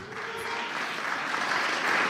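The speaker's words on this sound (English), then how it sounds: "you should give yourself a big hand clap of all the wonderful people that are here today" Applause from a conference audience at an interfaith gathering, a dense, steady wash of many hands clapping that swells slightly toward the end, heard from within the hall with no speech over it.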